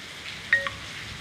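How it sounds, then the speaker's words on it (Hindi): Rain falls at a college in Malikpura on a rainy day, a faint, steady hiss with one sharp drip or tap standing out for a moment, and no voices. "उसके बाद बारिश होने लगी, जैसा कि आप देख रहे होंगे।"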